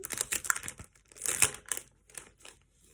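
A cardboard box holding a toy house kit is opened close by, with sharp crinkling, tearing and rustling in quick irregular bursts that fade near the end.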